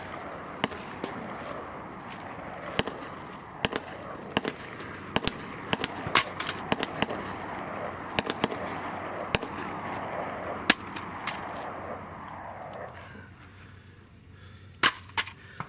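Sharp gunshots fire one after another in an uneven string, each crack distinct over a steady outdoor background, as a rifle with a Tapco magazine loaded with ten rounds shoots at a target through a Feyachi RDS-22 red dot sight.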